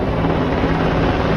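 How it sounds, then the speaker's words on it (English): A steady, broadband rumbling drone of a helicopter fills the background, constant in level with no talking over it. "You guys can definitely hear the helicopter there in the background."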